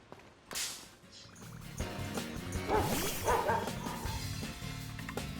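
A dog-like Pokémon cry from Pokémon Violet, a few short barks and yips that rise over faint game music and background noise, quiet overall with one louder bark early on.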